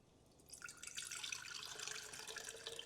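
Nettle tea poured from a mason jar through a sieve, a steady close trickle and splash of liquid that starts after a brief quiet moment and runs on without talk.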